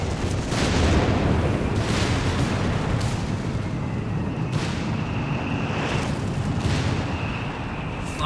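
Anti-aircraft flak guns fire steadily in the World War II strategy game Company of Heroes 3, a dense, continuous battlefield roar punctuated by repeated sharp bursts and booms throughout.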